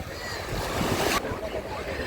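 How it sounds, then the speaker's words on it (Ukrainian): Broadband Black Sea surf noise at Chornomorka, Odesa washes steadily, close and fairly loud, with a wind-buffeted rush that drops off partway through. "Подивіться на це морічка, який колір, яка хвиля."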